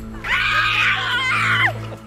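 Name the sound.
woman screaming while hand fishing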